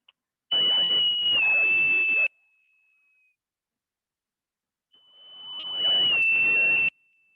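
Great jacamar call played from a recording: two long, high, slightly descending whistled notes, each about two seconds, separated by a short silence, clear and unaccompanied.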